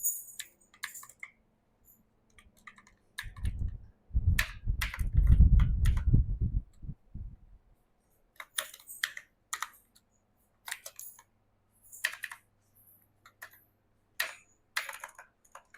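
Typing on a computer keyboard during a web design practical, with sparse clicks at first, a dense burst of keystrokes in the middle, then scattered taps and clicks. The sound is close and quiet, with no speech.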